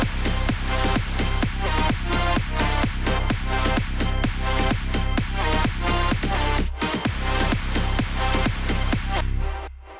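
Big room house track section with the kick and bass removed, leaving dense, loud synth chords and percussive hits in a driving regular pulse, with a brief dropout near the middle before a fade at the end.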